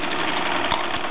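A Mamod SP8 James Watt toy steam beam engine runs with a steady, close mechanical chuffing and whirr, with a slightly wobbly flywheel making the engine vibrate.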